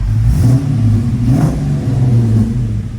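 A 1971 Chevrolet Camaro Z28 restomod with an LS3 6.2-litre V8 runs loud and close, its deep rumble swelling through a few revs with no voices over it.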